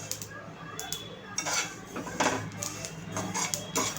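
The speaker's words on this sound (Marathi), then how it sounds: "ते भाजायला लागले की आवाज येतो" Sesame seeds dry-roasting over a medium flame in a pan give off scattered crackles and light scraping and stirring clatter, moderately close and steady.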